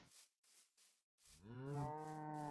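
Several cows moo in a rural setting near a home in the woods, one long, loud, close low moo rising clearly after a few shorter, softer calls.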